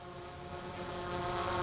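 A DJI Mavic 3 drone hovers and turns to the right, its steady propeller whine holding at a constant, moderate level with a slight swell toward the end and no talk.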